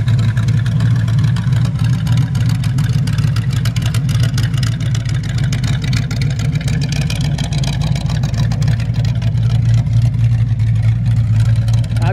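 A 1930 Ford Roadster engine running steadily and loudly up close, a constant low rumbling drone with a dense mechanical rattle throughout.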